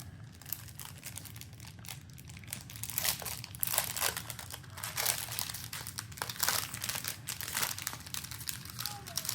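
Paper cutouts from a book nook kit crinkle and rustle as they are handled, a steady close-up crumpling texture with brief louder crunches, no one talking.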